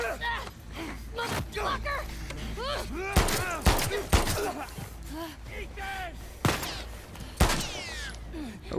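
Gunfire and impacts from The Last of Us Part 2 gameplay, several sharp loud bursts at irregular intervals amid busy game sounds, with a person talking over much of it.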